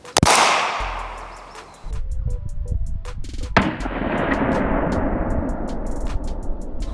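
A Korsar firecracker bursts inside an unbreakable drinking glass with a loud, sharp crack, followed by a long fizzing hiss and a scatter of small crackles and pops that keep going for several seconds.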